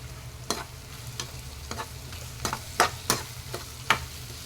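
Tomatoes and onions fry in a pan for a chicken curry, with a continuous sizzle under a series of sharp, irregular spatula scrapes and taps, close and fairly loud.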